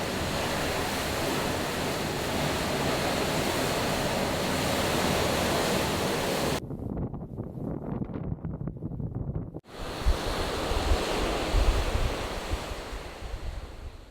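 Waves on the Eastern Caribbean Sea wash steadily below a cruise ship balcony on deck 8, a continuous broad surf rush mixed with wind buffeting the microphone, briefly dipping quieter midway.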